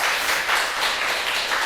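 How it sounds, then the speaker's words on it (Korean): A church congregation claps together during a Sunday afternoon worship service, a steady, even wash of applause that holds at the same level for the whole short stretch with no voices over it. "하나님 앞에 영광의 박수를 한번 보냅시다."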